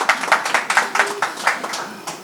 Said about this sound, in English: Here's some claps.